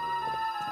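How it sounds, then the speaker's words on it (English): A telephone rings with a steady electronic tone, sustained and fairly clear through the short moment with no voices. "And then the phone rang."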